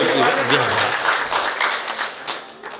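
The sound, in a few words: audience applause at poetry recital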